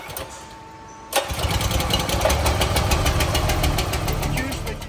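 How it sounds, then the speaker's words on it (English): Small petrol engine on a Hydro MiniSKY cable blowing machine catches at about one second and settles into a steady, loud, rapid knocking run close by, started with choke on and throttle near three-quarters. "Then start the engine."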